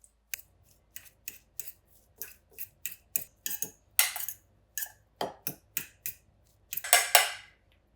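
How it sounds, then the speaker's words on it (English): A fork smashing boiled eggs in a medium bowl, sharp clicking taps against the bowl repeating in an irregular rhythm, close and crisp, with a few harder scraping strikes near the end. "now we put the eggs into a medium bowl and start smashing them with a fork"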